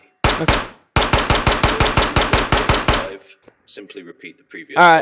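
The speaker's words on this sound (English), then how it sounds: "Try to hit the targets. Continue firing until the magazine is empty." A submachine gun fires at targets on a practice range in the VR game Ghost of Tabor: two opening shots, a pause, then a steady rapid string of about a dozen loud, close bursts, followed by a quiet rattle and a brief spoken voice.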